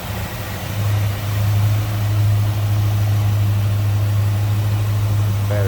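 A 1973 Mercury Cougar XR7 convertible V8 with an Edelbrock intake and four-barrel carburetor idles smoothly nearby, a steady low rumble with a constant hum and no voices.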